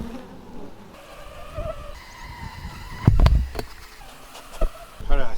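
Honey bees buzzing around an open hive during a hive inspection, a continuous close buzz with wavering pitches, broken by a few knocks and clunks of the equipment.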